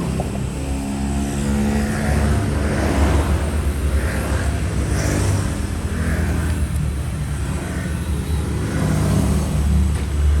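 MN99s RC car motor revving and accelerating, a steady loud electric whine with engine-like drone held throughout, no speech.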